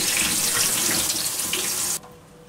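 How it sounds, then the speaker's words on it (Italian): Cold tap water gushing into a kitchen sink over cooked peas and farro in a strainer, a loud, steady close-up rush that cuts off abruptly near the end. "con il getto dell'acqua fredda del rubinetto."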